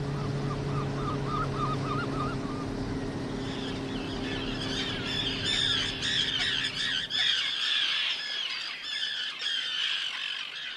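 Birds at a large lake ringed by forest, reed beds and water lilies give harsh, repeated squawks that grow dense and loud in the second half, over a low engine-like drone that fades out.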